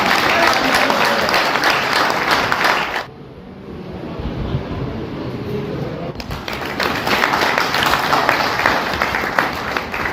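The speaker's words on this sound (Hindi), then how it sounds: "अब तालियां भी चाहूंगा इस मेरी अंतिम लाइन के साथ" An audience at a Sunar community honours ceremony in Meham breaks into loud applause that drops away for a few seconds midway, then swells back up and continues.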